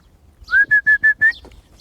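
Five short, clear whistled notes in a quick, even rhythm, made by a person nearby, surrounded by near silence.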